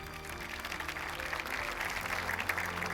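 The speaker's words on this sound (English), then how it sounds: "Please join me in giving them another round of applause." An audience at the Zayed Award for Human Fraternity ceremony in Abu Dhabi applauds with steady, dense clapping over a low hum from the venue, growing slightly louder toward the end.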